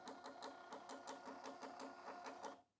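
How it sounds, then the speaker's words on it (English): A small receipt printer prints a sales receipt in a quick, even train of mechanical pulses, close and steady for a couple of seconds before stopping abruptly. "Then the printer prints it."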